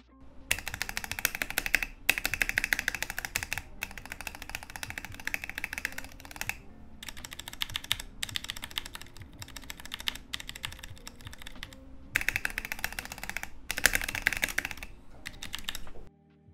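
Fast clacking on a Vortex GT-8 mechanical keyboard with brown switches comes in steady bursts separated by brief pauses, close and fairly quiet.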